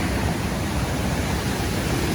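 Waterfall at Multnomah Falls in Oregon roaring from the top of the falls, a steady, loud, dense rush of water with no break and no voices.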